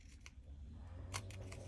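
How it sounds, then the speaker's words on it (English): Scissor snips trimming excess sticky, glue-backed paper while making a twisted ribbon card, a few quick close cuts over a low background hum. "take our snips and cut off all this excess"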